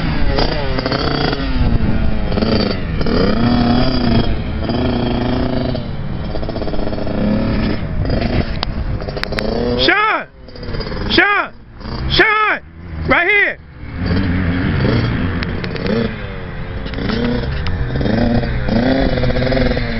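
A motocross motorcycle runs on a beginner's track at Budds Creek, its loud, steady engine roar rising and falling with revs, dropping briefly in a few sharp dips before building back up close by.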